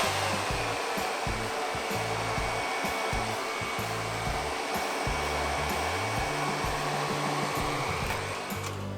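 A hair dryer blows steady heat onto hair while it is styled around a round brush to hide bangs, its loud continuous whoosh running unbroken throughout with a low motor hum.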